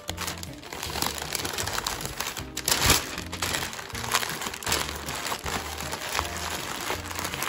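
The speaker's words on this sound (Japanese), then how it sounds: "新聞の上に載せてぐるぐるっと包んでしまいましょう。" Sheets of newspaper crumple and crinkle continuously as they are wrapped around a rounded, sweet-potato-shaped paper form, with close, dense rustling and a few sharper crunches throughout.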